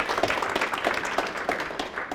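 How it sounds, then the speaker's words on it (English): Audience at a hypnosis conference keynote breaking into applause, a brisk patter of many hands clapping with distinct individual claps standing out, fairly close and lively. "A round of applause for Karma on that one, right?"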